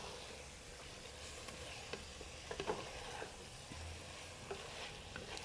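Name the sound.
frying and stirring a curry base in a pan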